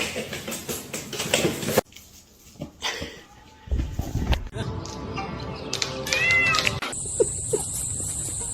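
A pet cat meows in several short calls, close and clear, amid shifting household noises and brief background sounds.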